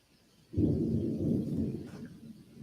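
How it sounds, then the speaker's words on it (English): Rolling thunder from a severe autumn storm near Lafayette, a low rumble that starts abruptly after a quiet moment and swells and fades over a couple of seconds, heard from some distance with no talking. "You probably hear the thunder at my location."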